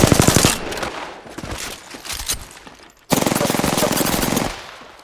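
Loud, sustained automatic weapon fire in an Apex Legends match rattles out in two long bursts separated by a short gap, with a few quieter shots in between.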